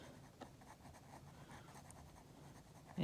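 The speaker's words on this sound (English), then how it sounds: "you'll notice that I'm using more of the side of the pencil than the direct point" A drawing pencil shades on paper with the side of the lead, a soft continuous scratchy rubbing that is close and quiet.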